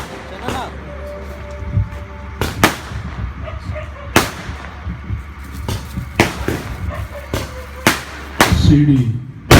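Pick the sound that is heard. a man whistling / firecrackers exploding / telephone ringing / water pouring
firecrackers exploding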